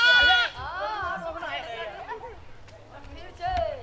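A goat bleats several times, close and loud, with wavering drawn-out cries that come one after another over faint background chatter.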